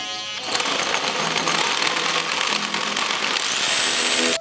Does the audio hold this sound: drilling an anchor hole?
yes